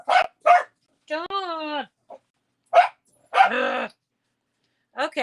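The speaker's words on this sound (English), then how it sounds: "Knew they were going to bark." Dogs barking indoors on a Friday night: short sharp barks and a drawn-out whine-like yelp come in bursts between silences, close and loud, while a person talks and tells them to stop.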